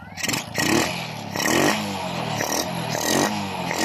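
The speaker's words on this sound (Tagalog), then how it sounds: "umandar na ang motor ni Bossing." A Honda XRM 125 carbureted motorcycle engine runs just after starting, close and loud, with uneven blips of revving and a clattery, rough idle between them.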